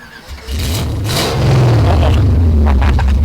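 A Ford Maverick muscle car, converted from a six-cylinder to a V8, turns over and revs up into a deep, loud rumble that holds steady and throbs, close by, with no talking.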